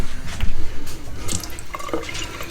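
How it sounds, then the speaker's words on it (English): Water runs from a newly plumbed coffee bar tap fed by a reverse osmosis system, splashing and dripping unevenly into a sink close by, loud and alone with no talk. "now we got running water at the coffee bar"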